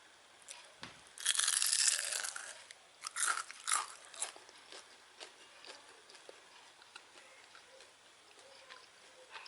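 Crispy fried snack made from leftover rice is bitten into close to the mic, giving a loud burst of crunching followed by several softer chewing crunches that fade toward the end.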